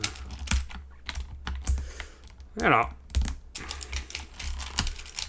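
Typing on a MelGeek Pixel brick computer keyboard, a quick irregular run of crisp key clicks close to the mic, with someone talking over part of it.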